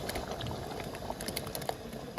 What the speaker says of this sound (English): We are pouring that in gently.